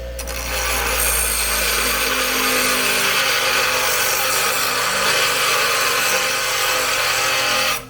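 An angle grinder cuts a part on a Motovox mini bike to clear the drain plug, a loud, close, continuous abrasive whine that holds steady for the whole stretch and then stops abruptly.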